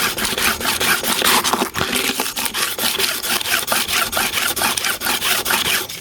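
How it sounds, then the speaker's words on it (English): Clipper blades sharpened against smooth sandpaper, with a steady run of close, loud scraping strokes in a fast repeating rhythm and no voices. "You can see I'm using a smooth sandpaper, right?"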